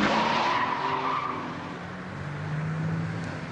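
Racing cars skidding during a race, a tire squeal that rises and falls with engine noise, heard from a middle distance at moderate loudness, with no voices over it.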